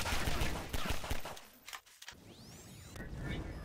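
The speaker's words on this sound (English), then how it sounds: "Why are you shooting me, Android?" Gunfire in the Garry's Mod video game, several sharp bursts of game gunshots with whooshing sweeps, mixed with game noise and brief dips, fairly loud throughout.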